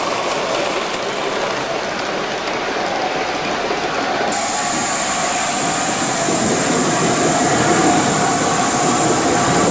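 Gauge 1 live steam model locomotives, LNER A4 and N2 tank types, run on a track in a continuous loud rolling rumble with hissing, rain-like noise. A thin steady whistle-like tone comes in partway through.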